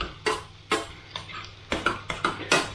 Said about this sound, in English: We're going to whack the eggs in, pop the yolks, mash and stir.